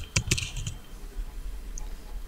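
Several quick keystrokes on a computer keyboard, typing a short word, with clustered clicks early and then quiet room tone; close and fairly soft.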